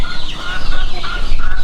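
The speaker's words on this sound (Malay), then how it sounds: "Ini besar sekali ayamnya ni." A large egg-laying hen clucks loudly and close by in quick, rough repeated calls, with no one speaking.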